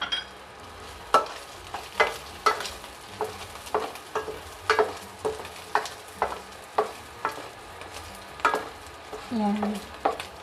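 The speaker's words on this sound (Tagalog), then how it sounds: "Parang pinapan fry mo muna yung taba." Pork fat frying in a pan for a pork stew, a steady close sizzle broken by repeated sharp scraping strokes of stirring, no talking.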